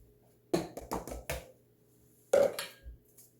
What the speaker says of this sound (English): Mix all the wet and dry ingredients together now.